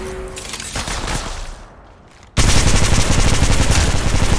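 Rapid automatic gunfire from an Apex Legends Mobile match, loud and dense, easing slightly before a brief lull, then resuming at full intensity in a continuous burst to the end.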